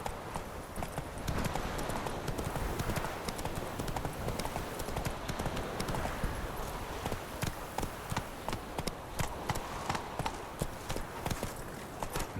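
Geralt's horse Roach galloping in The Witcher 3, rapid rhythmic hoofbeats pounding steadily and close, growing more distinct toward the end, with no talk over them.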